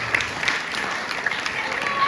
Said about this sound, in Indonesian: ngiring tepuk tangan sarang sami